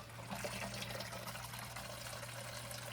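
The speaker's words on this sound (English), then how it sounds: "you can hear the fuel pump going" Old gasoline being drained from a Volkswagen GTI by its running fuel pump: a continuous soft trickling, pouring flow over a low steady hum, faint and unchanging throughout.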